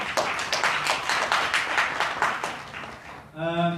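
An audience at a business summit gives a round of applause, dense close clapping that fades out before a voice starts speaking.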